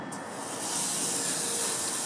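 Chorizo hits a hot Cobb frying pan and sizzles, a steady loud hiss that builds within the first second and holds without pause, close and alone with no talking.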